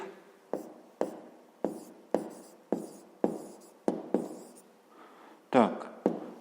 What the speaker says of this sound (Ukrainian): Записуємо другий спосіб.